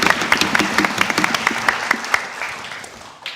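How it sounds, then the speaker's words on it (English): An audience at a schools concert claps in a burst of applause, many hands clapping together close by and fading out over a few seconds. "Let's give him a big round of applause."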